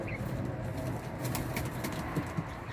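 Bango Mısırı high-flying pigeons cooing softly in a loft, low murmuring coos repeating over a steady background with a couple of louder coos near the end.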